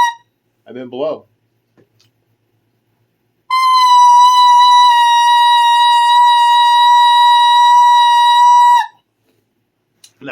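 A reed fitted to a saxophone mouthpiece, played without the instrument, produces one loud, steady, buzzy tone held for about five seconds, after a brief bit of speech.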